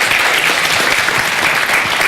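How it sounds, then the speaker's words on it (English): Dense, loud audience applause, a steady wash of many hands clapping at once without a break. "let's applause for our..."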